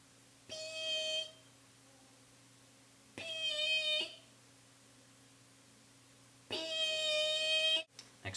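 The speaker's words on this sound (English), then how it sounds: "Now we have the black guillemot." A black guillemot calls three times, each a thin, high, reedy whistle of about a second, separated by pauses against a faint steady background hum.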